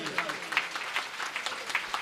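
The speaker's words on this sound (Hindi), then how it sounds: "इनके लिए जोरदार तालियां बजाइए।" Applause from an audience at a Shiv Mahapuran religious discourse, moderate rhythmic clapping, fairly soft and even, continuing briefly.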